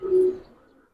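Giribaz pigeon, a fancy pigeon on sale at a market, giving one short low coo up close, held steady for a moment and then fading away to quiet.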